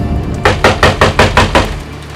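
Knocking on a door: about seven evenly spaced, firm raps in a quick rhythm, close and loud, with nothing else audible.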